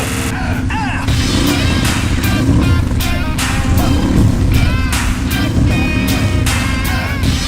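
A 1000cc turbo off-road engine screams at high revs around 8,000 RPM, a loud, dense roar with repeated surging bursts and rising whines, up close and continuous.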